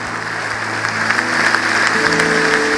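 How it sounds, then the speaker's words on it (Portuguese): Church congregation applauding during an evening worship service, steady clapping rising slightly in intensity, with sustained musical tones from instruments underneath throughout. "Dê mais um aplauso ao Senhor nessa noite."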